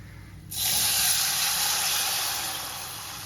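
Mustard seeds, urad dal, raw peanuts and curry leaves hit hot oil with turmeric, bursting into a loud, steady sizzle that gradually eases over a few seconds, with no talking.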